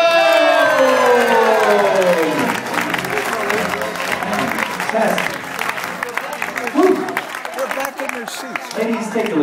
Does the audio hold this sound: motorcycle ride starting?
no